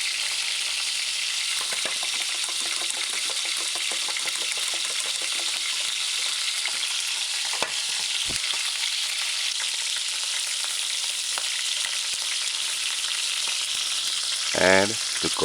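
Chicken pieces in a coconut stew sizzle steadily in a hot pan with vinegar added, a continuous bright frying hiss with occasional scrapes and stirring clinks, a louder stir near the end, no talking.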